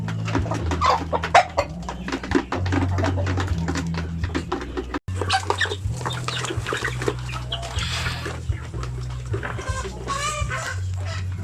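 Hungry laying hens cluck busily and repeatedly at close range, overlapping calls forming a continuous chatter with occasional louder squawks.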